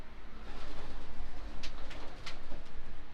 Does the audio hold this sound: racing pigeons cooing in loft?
yes